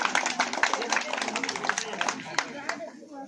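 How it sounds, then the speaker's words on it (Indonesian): Crowd applause and clapping from guests at the 2022 Simalungun regency fun bike event hosted by Bank Sumut, a steady busy patter of many hands outdoors, mixed with crowd chatter. "Mari kita berikan tepuk tangan yang paling meriah"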